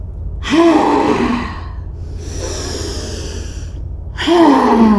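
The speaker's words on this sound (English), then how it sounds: "taking a really long, slow breath in to prepare, and then ha out 3 times" During a yoga class for stress, a person forcefully breathes out with audible "ha" exhalations, voiced breathy bursts spaced seconds apart, close and loud.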